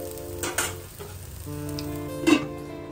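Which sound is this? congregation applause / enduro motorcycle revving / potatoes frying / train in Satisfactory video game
potatoes frying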